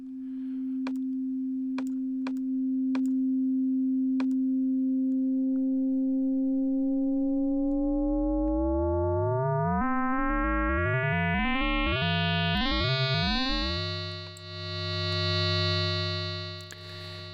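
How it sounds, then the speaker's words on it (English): Two sine oscillators in an FM synthesizer play a steady pure tone that gradually sprouts shifting sidebands, sweeping and warping into a dense, buzzy, metallic texture before settling into a rich sustained chord, loud and alone. "textures by combining two sine waves together"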